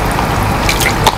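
Potato peels and carrot drop into the water of a lobster farming tank, a brief close splash and dribble of water over a continuous bubbling wash.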